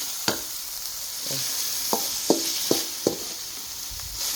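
Pork stir-fried in a pan with oil, a soft continuous sizzle broken by a handful of sharp spatula scrapes and knocks against the pan, close by, with no talking.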